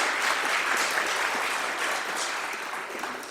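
An audience applauds steadily at a community awards ceremony in a church, dense clapping from many hands throughout, gently fading toward the end.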